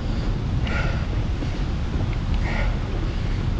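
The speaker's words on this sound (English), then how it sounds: "It's a bit windy today, got a 20 mile an hour headwind" Steady roar of wind buffeting a microphone while cycling into a 20 mph headwind on a road ride toward RAF Cosford, a loud continuous rumble with no talk.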